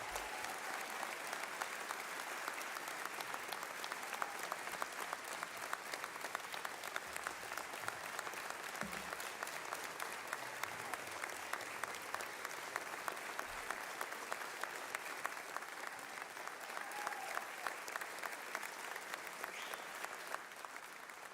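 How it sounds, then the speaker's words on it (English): Sustained audience applause fills a police academy graduation ceremony, a dense, steady wash of clapping from a large crowd lasting throughout with no pauses. "Let us give our recruits another round of applause."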